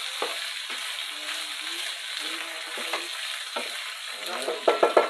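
Pork bicol express sizzles in a pan while a utensil stirs and scrapes through it, giving close, irregular clacks over the frying and a burst of louder metallic knocks at the end.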